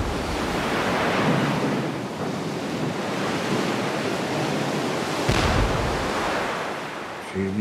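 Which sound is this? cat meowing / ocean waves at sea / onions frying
ocean waves at sea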